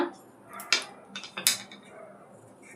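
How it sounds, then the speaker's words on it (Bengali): A kadai wok set onto a lit gas stove gives a few close metallic clanks and knocks in a short cluster against a quiet background. "গ্যাসটা জ্বালিয়ে দিয়েছি, কড়া বসিয়ে দিলাম।"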